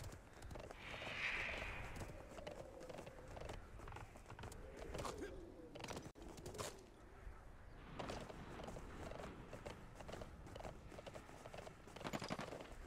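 Rhythmic clip-clop of horse hooves at a steady pace, with creaks and game ambience layered around it, from a Royale video game.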